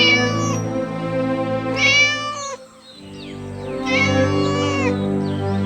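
A cartoon cat meows in long, drawn-out, wavering cries, loud and close: two strong calls with a softer, shorter mew between them, no talk over them.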